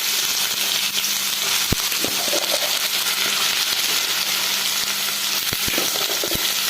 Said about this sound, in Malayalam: കടുക് പൊട്ടി വരുമ്പോൾ ശേഷം അതിലേക്ക് ഈ ചേന, സവാള, കറിവേപ്പില ഇത് നമുക്ക് കൊടുക്കാം